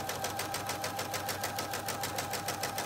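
A sewing machine stitches steadily along a seam at a regular 2.5 stitch length, its needle pulsing in a quick, even rhythm, close and clear with no talk.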